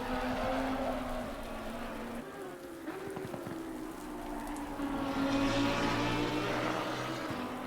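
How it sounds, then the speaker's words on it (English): Rain falls steadily during a race at the Monza circuit, a continuous wash of hiss that swells louder near the end, with faint engine noise in the background. "The rain has hit."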